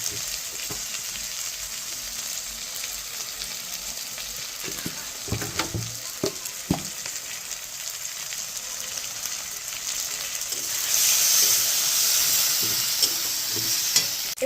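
Chopped tomatoes fry in a pan with turmeric and salt for khichuri. A steady soft sizzle is punctuated by a few stirring knocks, and the hiss swells louder toward the end.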